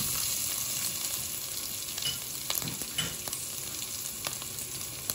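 Chicken pieces fry with ginger in a hot pan, giving a steady loud sizzle broken by scattered crackles and spatter pops, with no talking.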